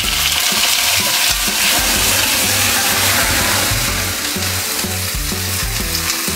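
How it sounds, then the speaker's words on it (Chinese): Scallion, ginger and garlic sizzle and fry in hot oil in a wok, a steady loud crackling hiss running throughout with stirring noises and no talk. "起锅烧油， 葱姜蒜炸锅，把它爆香一下。"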